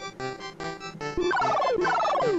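Cartoonish bird calls from a film scene, a rapid series of gobbling, turkey-like squawks that grow louder and end in descending sliding whistles, heard alone without talk.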